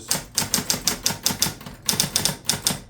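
Keys on a Smith Corona Coronet Super 12 electric typewriter are tapped in a quick, even rhythm, each stroke a sharp motor-assisted clack, about a dozen in a row with one brief pause, close up and alone.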